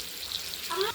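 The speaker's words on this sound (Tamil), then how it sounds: "இப்போ வறுத்து எடுத்துக்கலாம்." Steady hiss of fish frying in hot oil, a continuous sizzle with a brief brighter crackle near the end.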